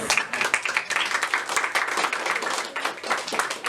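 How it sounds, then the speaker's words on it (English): A school debate audience claps for a judge being introduced, a short burst of fairly quiet, uneven clapping from a modest crowd lasting a few seconds. "A round of applause, please."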